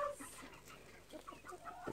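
Chickens on a Perth farm, including roosters, cluck in scattered short bursts over a soft outdoor background, fairly faint and close.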